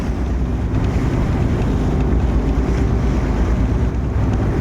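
A ship moves on open water with a constant low rumble mixed with wind buffeting the microphone and washing waves, loud and steady with no talk.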